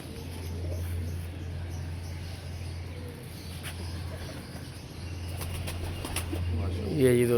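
A racing pigeon comes in to land at its loft, with short bursts of wing flapping in the second half over a steady low hum and a louder flutter right at the end.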